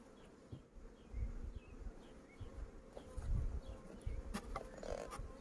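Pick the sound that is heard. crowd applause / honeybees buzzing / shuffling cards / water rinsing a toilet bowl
honeybees buzzing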